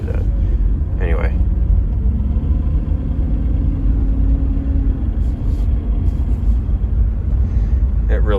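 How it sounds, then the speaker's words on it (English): A 2001 Acura TL in very worn condition drives along with a steady, loud low road and engine rumble heard from inside the cabin, with a person talking over it. "It really does drive nice."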